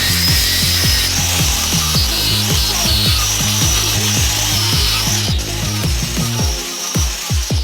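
Power saw cutting through part of a BMW N57 engine's sump during a swap into a Landcruiser; a loud, rhythmic rasping grind with regular strokes roughly every half second, steady and close, easing off near the end.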